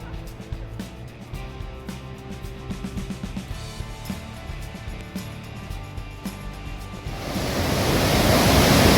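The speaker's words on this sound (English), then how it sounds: "the sight of waves rolling under the cloudy sky felt calming" Ocean waves rolling in under Santa Monica Pier, a steady washing surf that swells into a louder, broad rush toward the end.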